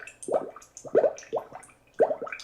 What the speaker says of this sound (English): We got kind of a water bubble effect.